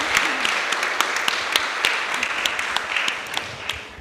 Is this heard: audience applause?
yes